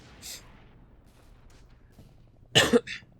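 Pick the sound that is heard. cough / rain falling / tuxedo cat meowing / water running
cough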